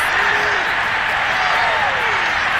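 A stadium crowd in a football video game roars and applauds a Seattle touchdown, a dense, loud, steady wash of cheering and clapping that fills the clip from start to finish.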